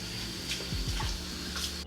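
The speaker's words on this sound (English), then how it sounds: "I'm going to get a towel again and get it soaking wet and then squeeze out the excess water" A towel is soaked under running kitchen water and wrung out, giving a steady faint splashing and trickling wash with a few low gurgles, quiet and without talk.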